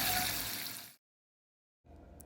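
Tap water running into a pot over raw chicken, a loud steady broadband rush that cuts off abruptly, leaving a short silence before a fainter resumption of water noise.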